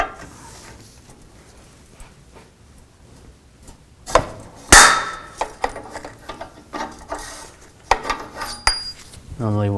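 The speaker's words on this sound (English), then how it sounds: "You can use an O2 sensor socket or a 7/8 wrench" A 7/8 wrench or O2 sensor socket loosening an O2 sensor on a 2008-13 Cadillac CTS: a quiet start, then close, sharp metallic clanks, clicks and scraping knocks in irregular bursts, with no voices.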